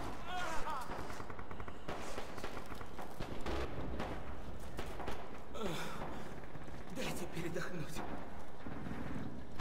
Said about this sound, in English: I'm gonna go to the window, shoot the tank in the ass with the anti-tank rifle.